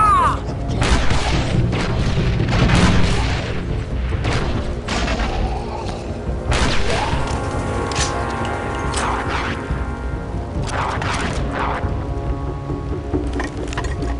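Gunfire and explosions in the video game Star Wars: Republic Commando, heard as a dense, loud battle din of rapid blasts and deep booms, continuing steadily with short bursts of voices mixed in.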